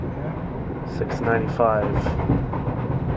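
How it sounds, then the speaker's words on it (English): Amtrak Adirondack passenger train passing at night, a steady close rumble and rattle of rolling cars that continues throughout, with brief voices talking over it. "There it is. Amtrak Adirondack."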